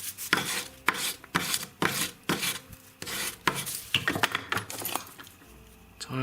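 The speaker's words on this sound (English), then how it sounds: "just file it up" Rasping strokes of a file dressing the cut end of a metal chain link in a figure-eight chain, about a dozen short, bright scrapes in a steady back-and-forth rhythm, close and fairly loud with no talking.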